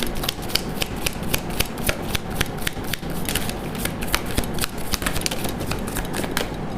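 Tarot cards are shuffled by hand in a steady, continuous riffle of dense papery rustles and slaps, close and fairly loud, with no speech over them.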